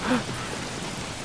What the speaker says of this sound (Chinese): 讨厌，打雷下雨什么的